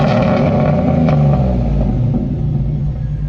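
A Chevy Silverado pickup with a Gen 3 LS-swapped 6.0 V8 revs hard and close, its loud, deep engine roar swelling and then holding steady throughout.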